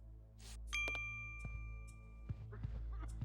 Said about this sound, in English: I keep hearing that chime go off, and I keep seeing the notice.